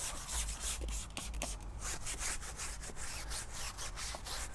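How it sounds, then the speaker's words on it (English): Stiff brush scrubbing the rubber of a car tire with cleaning product, a steady rough rubbing with repeated back-and-forth strokes, close and fairly quiet with no voices. "and just scrub the rubber"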